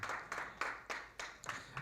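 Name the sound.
audience applause for speaker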